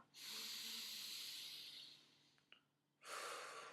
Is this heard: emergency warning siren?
no